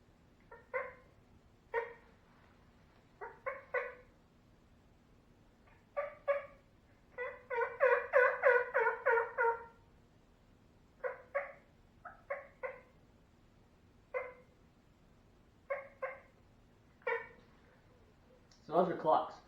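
A turkey call imitates a hen's clucks: short single or paired sharp clucks spaced irregularly over calm quiet, with a brief rapid burst of yelp-like notes in the middle and a louder sound at the very end.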